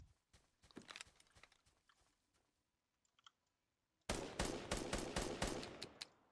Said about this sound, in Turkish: Silah sesine doğru.